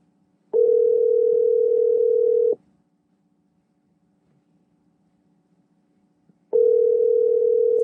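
A ringback tone plays while a call goes out to a mobile phone from a Tesla Model 3: two long, loud, steady tone bursts with a silent gap between them, alone without talk.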